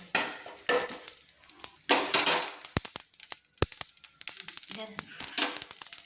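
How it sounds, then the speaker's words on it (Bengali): Cumin seeds and dried red chilies dry-roast in a wok while a utensil scrapes and knocks against the metal in irregular bursts of clinks and rattles, with short quiet gaps between them. "দেখুন আমি ভেজে নিচ্ছি, কড়াই হালকা করে আমি ভেজে নেব"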